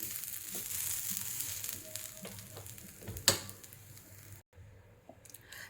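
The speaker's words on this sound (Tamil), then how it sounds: "தேங்காய் 2-3 நிமிஷம் நமக்கு ஃப்ரை பண்ணால் போதும்." Grated coconut dry-frying in a pan, a steady soft sizzle with a few scraping stirs and one sharp clatter before the sound briefly cuts out.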